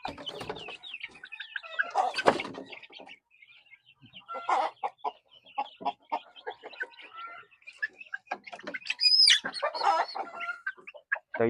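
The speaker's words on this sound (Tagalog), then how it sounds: "At ito yung rooster." Darag native Philippine chickens and a rooster cluck close by in a yard, irregular bursts of clucks and squawks with brief quiet gaps between them.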